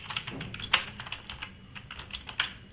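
Code is typed on a computer keyboard in a quick, irregular run of soft, close keystroke clicks with a few sharper taps.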